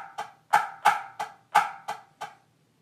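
A full measure of snare drum strokes, eight crisp hits in a steady eighth-note rhythm, with louder accents standing out against softer mezzo forte taps, close and alone.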